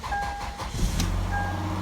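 A 2005 Lexus IS300 with a 2JZ engine starting on a weak battery: a short electronic chime, then a low, rough engine rumble that catches and keeps running, heard up close.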